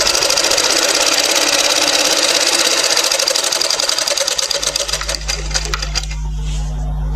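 A sewing machine stitches a side seam during tailoring, running loud and rapid for several seconds before halting and leaving a low motor hum.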